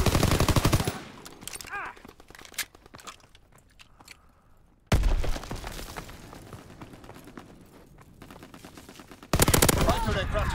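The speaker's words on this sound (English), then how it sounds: "Fighter pilot inbound, strafing the target." Aircraft strafing run in Call of Duty WWII: long bursts of loud, rapid machine-gun fire with crackling impacts, coming in waves separated by brief drops in intensity.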